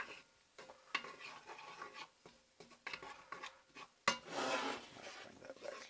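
Collard greens cooking in a pan, with soft irregular stirring and scraping over a low sizzle and a louder burst of frying near the end; no voices.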